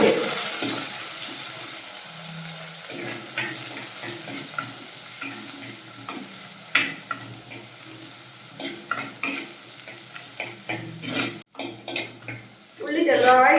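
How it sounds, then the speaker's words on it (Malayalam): Small shallots sautéed in a pan for a Kerala prawn curry, giving a soft, steady sizzle with occasional stirring scrapes and faint kitchen clatter, fairly quiet throughout. "നന്നായിട്ടൊന്ന് വഴറ്റിയെടുക്കാം."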